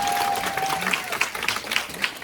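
After a business lecture, an indoor audience gives warm applause. Steady clapping continues at a moderate level, with a few sharper claps standing out.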